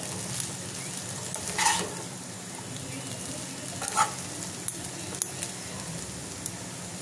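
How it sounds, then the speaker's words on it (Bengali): Chicken chow mein stir-fried in a pan with black pepper, a steady low sizzle underneath with a couple of louder scraping stirs and faint light clicks; no talking. "একটু মিশিয়ে আবারও মিশিয়ে নেবো আমি এটা।"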